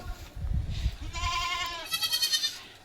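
A goat bleats nearby in a wavering, drawn-out call, followed by a quick series of pulsing bleats, with faint shuffling before it.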